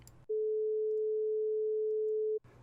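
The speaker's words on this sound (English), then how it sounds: "So what does 432 sound like?" A steady 432 Hz pure test tone holds for about two seconds, clean and unwavering, with brief bits of noise just before and after.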